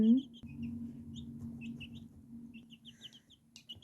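Hen clucking close by on a backyard farm, soft broody murmurs running through with a few brief chirps, while someone talks to the bird over the top.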